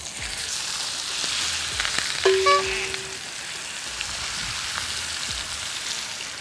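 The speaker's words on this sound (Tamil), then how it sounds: "இது ஷாலோ ஃப்ரையே, டீப் ஃப்ரை கிடையாது. நம்ம எண்ணெயில் உள்ளே போடல, வந்து பேனில் போட்டிருக்கோம்." Country chicken shallow frying in a pan with masala and onions, a dense continuous sizzle and crackle, loud and close, with a brief tonal beep partway through.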